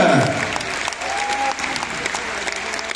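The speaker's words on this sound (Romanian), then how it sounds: "aplauze pentru această minunată orchestră" Audience applause after a concert by an orchestra, a sustained steady round of clapping from a crowd, full and close, with a brief whistle-like tone rising partway through.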